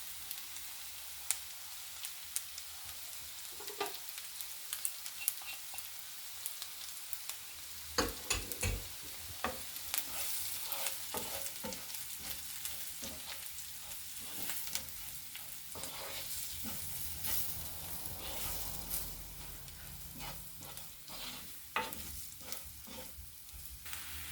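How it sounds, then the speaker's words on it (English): Paprika, smoked paprika and biryani spice mix tipped into frying onions for a fish biryani, with a steady sizzle throughout and repeated scraping, stirring strokes of a utensil against the pan, growing busier after the first several seconds. "So let's add this to our fried onions."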